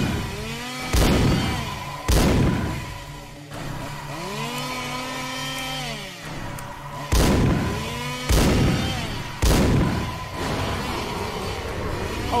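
Gunfire in a video game with enemy bunnies: loud percussive shots in bursts with gaps between them, over a steady bed of game music and effects.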